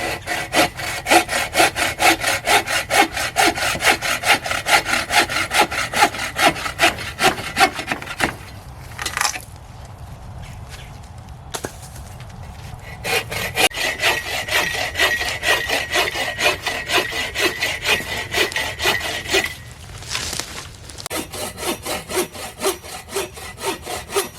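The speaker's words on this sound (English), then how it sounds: "that's the whole purpose of when you handsaw wood" Hand saw cutting firewood logs at a woodland camp for a hot tent stove, rhythmic back-and-forth rasping strokes close and loud, pausing twice briefly before resuming.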